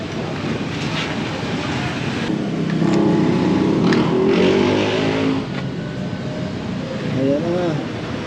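Kawasaki Z900 SE motorcycle fitted with a JPT muffler fires up and revs in a muffler shop, engine swelling and dropping in a few bursts while people talk nearby.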